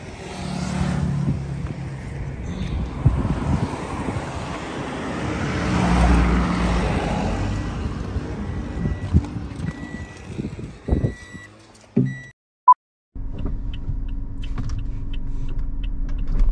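A car is driven during a driving lesson, its engine giving a low steady rumble with faint clicks and interior knocks, then a brief silence and a renewed idle hum.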